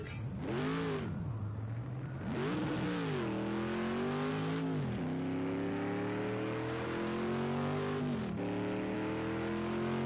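A Group C prototype race car's engine screams down the Mulsanne straight at Le Mans, loud and close, rising in pitch through each gear then dropping sharply at three or four upshifts, one of them a short shift.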